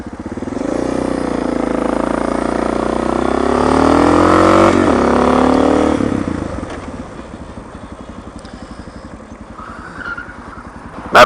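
A 300-pound motorcycle engine roars loudly and steadily, rising in pitch as it accelerates, then drops to a lower rumble as the bike eases off.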